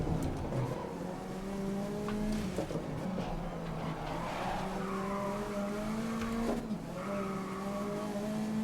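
A Subaru WRX race car in the racing game GRID (2019), engine droning and rising through the gears while its tires squeal and skid through corners, with a sharp impact thud partway through.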